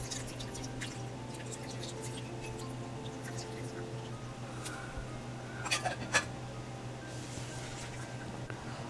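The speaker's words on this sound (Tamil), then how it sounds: "இப்போ புளி தண்ணியை இதில இருந்து நம்ம வடிகட்டி எடுத்துக்க போறோம்." Soaked tamarind pulp being strained out of its water for neem flower rasam, giving soft, faint drips and wet squishes over a steady low kitchen hum, with a slightly louder squeeze near the end.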